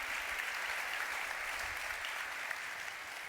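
A business audience applauds steadily, a soft, even patter of many hands that stays fairly distant and uniform throughout.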